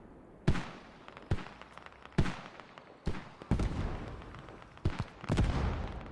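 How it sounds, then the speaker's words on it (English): Mortar rounds land in the military shooter game Squad, about eight sharp booming impacts spaced a second or so apart, some with rumbling tails, heard at moderate distance without talk. "Mortars are already overhead."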